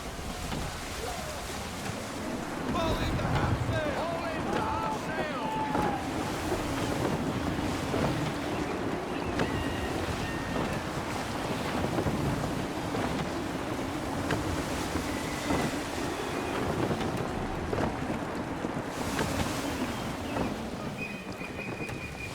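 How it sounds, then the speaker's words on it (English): Gusty wind over a sailing ship at sea in Assassin's Creed 3: a steady, full roar of wind and rushing water with creaks and faint tonal whistles drifting above, constant and enveloping, no voices. "Gusty winds can be difficult to manage."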